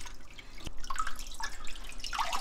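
Tofu rinsed under a running kitchen tap while preparing seasoned butterbur greens with doenjang, giving a steady close trickle with scattered drips and splashes throughout.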